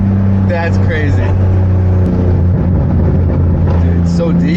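A BMW G82 M4 with the S58 engine and catless downpipes idles and burbles loudly up close, its deep exhaust drone steady with small swells, while people talk and exclaim over it.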